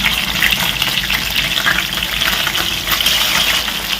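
Fish frying in oil over a low flame, giving a steady, close sizzle and bubbling hiss that runs throughout with no talking.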